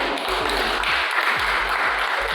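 Audience applause at a legal sociology debate discussion, a dense, steady wash of clapping filling the whole moment, with low thumping taps running underneath.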